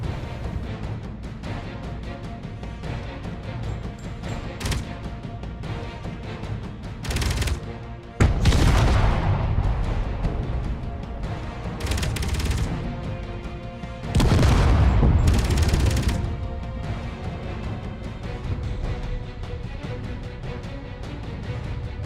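Turret shots in the space sandbox game Space Engineers: two heavy booming blasts a few seconds apart, each with a long rumbling decay, over a steady low mechanical hum.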